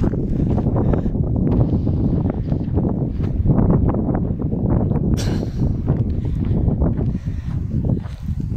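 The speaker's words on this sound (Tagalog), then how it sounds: "it's a windy evening tonight" Steady, loud wind buffets the microphone during an evening walk along a rural road, a continuous low roar with gusty swells throughout and no talk.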